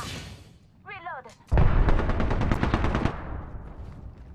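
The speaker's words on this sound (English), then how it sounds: "Shots fired at me." Gunfire aimed at the player in a battle-royale shooter: a sharp burst of rapid shots that rattles on for about a second and a half, loud and close, after a brief spoken voice.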